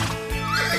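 A cartoon horse neighs in an animated series, one loud, close whinny with a wavering, drawn-out pitch, heard alone without speech.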